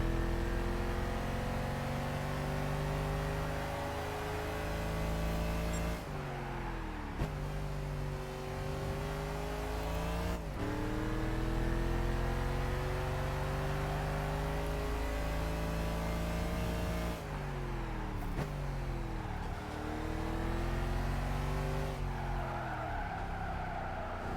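A Formula One race car at Silverstone during the British Grand Prix accelerates hard into a tunnel, its engine roaring loudly and continuously with rising revs. There are sharp gear shifts every few seconds and a brief tire skid.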